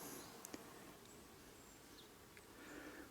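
Faint, steady buzzing of honeybees hovering nearby in a forest against a quiet outdoor background, with a couple of soft ticks early on.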